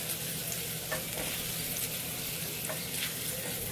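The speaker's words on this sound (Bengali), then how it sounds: "আদা এবং রসুনটাকে আমি একটুখানি ভেজে নিব কিছুটা নরম হয়ে যাওয়া পর্যন্ত।" Chopped ginger and garlic sizzle softly in a pan, with a few scraping stirs of a spoon breaking through the steady, low frying hiss; no voices.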